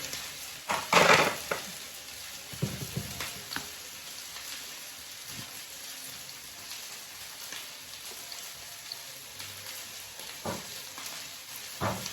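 Butter sizzling as it melts in a hot pan, with a soft crackling hiss throughout and a few louder clatters of a spoon near the start, no talking.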